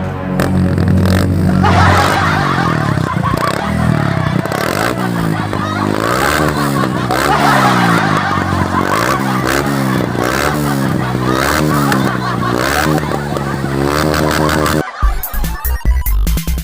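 A loud motorcycle exhaust revs repeatedly, its engine pitch climbing and dropping in steady pulses, close and harsh, with clattering noise and voices mixed in.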